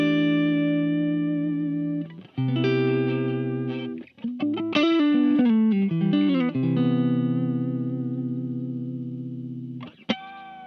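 An Ibanez electric guitar rings out through a Crazy Tube Circuits Mirage reverb pedal, with long sustained chords, a burst of quicker notes and lingering reverb tails, played alone and fairly loud.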